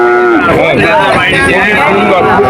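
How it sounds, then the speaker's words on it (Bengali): A heifer calf moos loudly and close at the Shahpur cattle market, a long drawn-out low call that fills the moment, with faint voices in the background. "সুন্দর একটা বকনা বাছুর"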